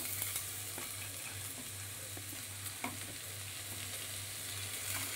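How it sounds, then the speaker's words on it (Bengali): Prawns frying in a spiced pan for butter prawn, a constant close sizzle with a low rhythmic hum underneath and occasional scraping stirs and soft clicks of a spatula, no voices. "এবার আমি দিয়ে দিচ্ছি চিংড়ি মাছগুলো।"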